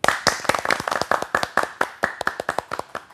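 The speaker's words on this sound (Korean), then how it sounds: "교수님 박수로 맞이하겠습니다" A modest audience in a civil-service sociology lecture hall claps to welcome the professor, a brisk patter of individual claps, close and uneven, fading briefly between bursts.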